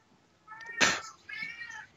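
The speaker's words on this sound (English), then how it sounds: "And I believe my cat wants to be fed." A hungry house cat meows twice indoors, a short cry followed by a longer drawn-out one, fairly close in an otherwise quiet room.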